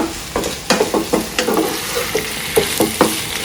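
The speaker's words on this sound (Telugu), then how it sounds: "మనం శుభ్రంగా వాచ్ చేసుకున్న ప్రాన్స్ వేసేద్దాము" Prawns fry in a pan with ground masala while being stirred: repeated scraping strokes come in an uneven rhythm over a soft, constant sizzle, close and fairly loud.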